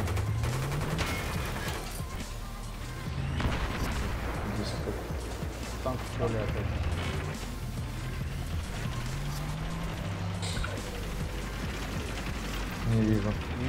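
Gunfire from a tank video game, rapid bursts and repeated shots in a dense, continuous barrage with engine rumble underneath, while a player talks over the action.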